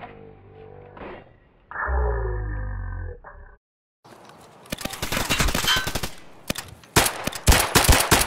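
Automatic gunfire in the shooter game Escape from Tarkov, loud rapid bursts of shots in quick succession that follow a stretch of game noise, close and sharp with brief pauses between volleys.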